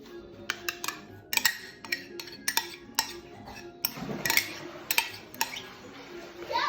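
A utensil clinks and scrapes repeatedly against a bowl while yogurt is stirred into chicken for gyros, with close, rhythmic taps and knocks that carry on steadily.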